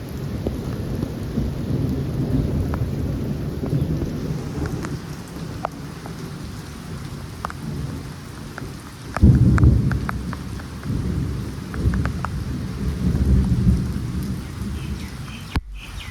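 Steady heavy rain pours throughout, with a deep rumble of thunder rolling in near the middle and lingering low rumbles afterward.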